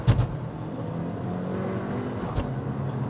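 A 2023 Haval Jolion S launches from a standstill, its engine a steady, moderate drone from inside the cabin with a couple of thumps at the start and no strong rise in pitch.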